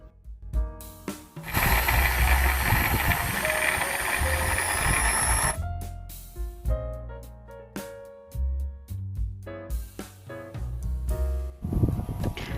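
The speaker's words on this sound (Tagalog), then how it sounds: "ito po ay ating gagamitan ng food processor para mas mabilis yung ating paggawa" A food processor chopping vegetables, garlic and onion: a loud whirring burst of several seconds, surrounded by sharp mechanical clicks and clatters from the machine and its lid.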